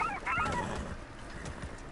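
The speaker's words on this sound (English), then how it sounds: "Those are turkeys." Wild turkeys in Red Dead Redemption 2 call out in a burst of rough, honking gobbles at the start, then fade into outdoor game ambience with soft rustling and footsteps.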